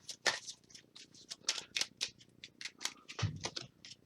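A deck of game cards for the Kingdom Death: Monster board game being shuffled, a quick run of crisp riffling and slapping card sounds close by, with no talking.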